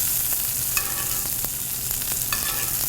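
Pan-seared steak sizzling loudly while a butter mixture is spooned over it, with a steady close frying hiss and a few clinks of the spoon against the pan.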